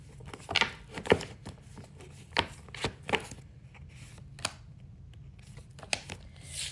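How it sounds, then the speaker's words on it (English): Tarot cards are shuffled by hand in a quiet room, giving a series of sharp riffling and slapping bursts with short pauses in between. "So I'm going to shuffle these and take some here that maybe pop out"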